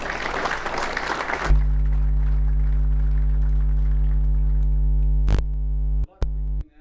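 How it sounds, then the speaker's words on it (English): Conference audience applauding speakers and moderators at a political seminar, a broadband burst of clapping for about a second and a half before a steady electronic hum and tone take over. "a round of applause in advance for our speakers and moderators"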